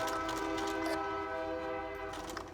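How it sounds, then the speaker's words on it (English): A train passes by with a sustained, chord-like horn blaring over a rumbling rail background, heard from somewhat far off indoors. "Train coming through."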